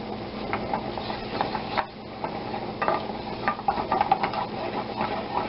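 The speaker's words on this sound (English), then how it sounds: "Now we take 1 tablespoon of genuine unsalted butter. See how that's foaming up there?" Unsalted butter foams and sizzles in a pan close up, a crackling bubbling hiss with scattered clicks and stirring scrapes and a brief dip partway through.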